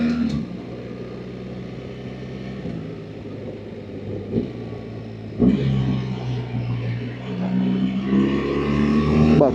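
BMW R 1300 GSA automatic motorcycle riding along, its engine droning steadily with rev rises as it downshifts and blips the throttle, under wind rumble.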